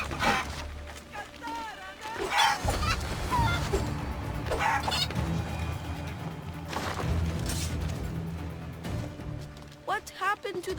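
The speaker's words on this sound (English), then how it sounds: "I'm going to show you how to kill a chicken." Chickens cluck and squawk in short bursts in Assassin's Creed Odyssey, mixed with game ambience and fluttering, several calls spread across the scene and loudest near the end.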